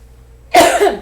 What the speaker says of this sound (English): she always makes me cough when I make a video.